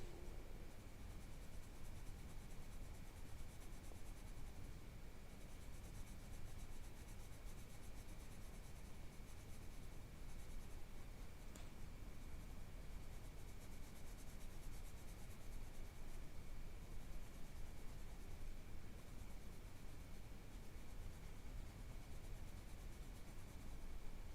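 Pencil cross-hatching on paper during a drawing session, a steady, continuous soft scratching and rubbing that runs evenly and close throughout, with no talk over it.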